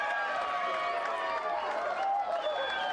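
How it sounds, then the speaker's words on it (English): A stadium crowd at a SAFF U-17 women's championship football match between Bhutan and Nepal roars after Bhutan's headed goal, a loud, sustained wash of cheering with whistle-like tones through it, and a voice may be talking over it. "It lifts the crowd in the stadium"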